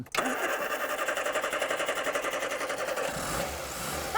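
A 1983 Mini Metro engine cranks on a jump pack and catches, a close, rapid rhythmic chugging that settles into a steadier idle after about three seconds, with no talk.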